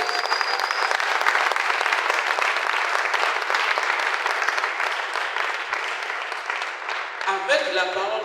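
A church congregation applauds and cheers for Jesus Christ in a dense, sustained roar of clapping that fills the room, with voices rising out of it near the end.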